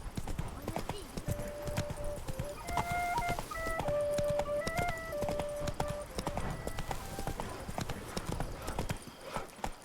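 Roach, Geralt's horse in The Witcher 3, galloping in a rapid rhythmic clip-clop of hooves, close and continuous, while short musical tones and voices play over the hoofbeats.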